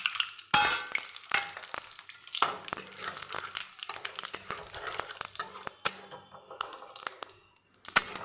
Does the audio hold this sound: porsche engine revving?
no